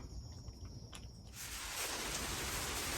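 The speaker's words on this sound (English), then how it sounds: "So here we are in the rain again." Steady rain sets in during a severe storm with a power outage, a soft hiss swelling into a dense, constant downpour that fills the background, with no voices.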